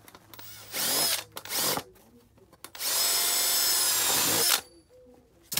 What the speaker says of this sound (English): Drill holes in the bottom.